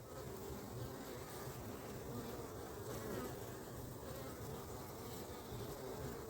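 A steady, dense buzzing of many honeybees flying around a hive at 7 a.m., continuous and close, with no talk.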